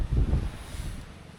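Strong southwest monsoon wind buffets the microphone on a shore lined with beached fishing boats, a loud low roaring gust with no voices.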